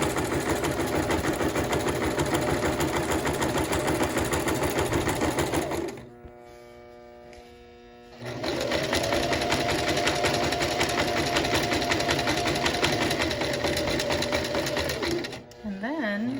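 A sewing machine runs steadily while stitching a French seam, its motor whirring loudly and continuously with a short pause in the middle, and a voice talks over it throughout.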